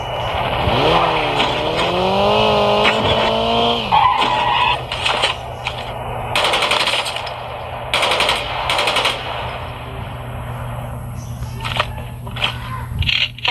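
Call of Duty Mobile battle royale match with rapid bursts of gunfire, a whining vehicle engine rising and falling early on, and sharp shots scattered through the rest, loud and close.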